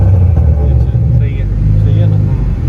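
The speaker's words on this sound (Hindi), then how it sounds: "जो धमाके की आवाज़ थी ना वो मैं ऊंची जा रहा हूँ" A tuned car set up for exhaust pops revs loud and close, with a heavy low engine rumble and a couple of brief higher bursts; voices talk over the engine.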